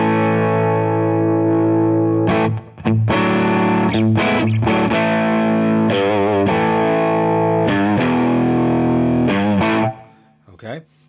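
Electric guitar driven through a JDM Pedals Humdinger octave fuzz used as an overdrive, playing gritty sustained chords and short riffs with brief pauses, loud and close, ending in a fading decay.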